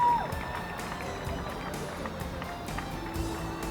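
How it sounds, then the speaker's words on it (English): Crowd applause for the senior members of a high school girls' soccer team at a senior recognition event, steady clapping spread across the stands, moderately loud and continuous. "Could we have a round of applause for the senior members of the Montour Spartan High School soccer team?"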